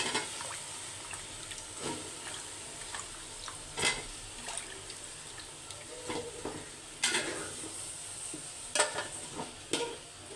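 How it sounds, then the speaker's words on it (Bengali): Cut vegetables tipped into a hot frying pan for a fish curry, giving a steady quiet sizzle with scattered clatters and stirring scrapes, the loudest bursts near the start and around the middle. "সবগুলো সবজি আমি দিয়ে দিচ্ছি।"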